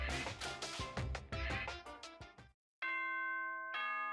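Ding-dong chime from the Danganronpa video game: a bright two-tone electronic bell sounding twice in close succession, sustained and clear, following a stretch of busy game music with no talking over it.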